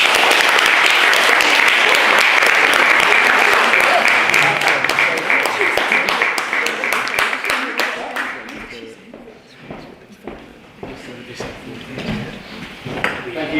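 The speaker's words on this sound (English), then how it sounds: "I think all of them deserve another massive round of applause." A crowd applauds loudly at a school debate competition final; the packed clapping gradually thins and fades, leaving scattered individual claps over faint voices by the end.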